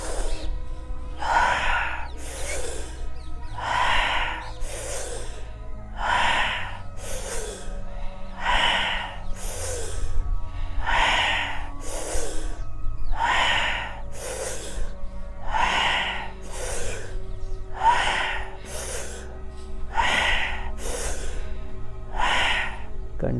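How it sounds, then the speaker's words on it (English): Deep, steady breathing during a guided breathing meditation, with about ten strong, regular breaths in a slow, even rhythm over a low background drone, no talking. "Continue the breathing."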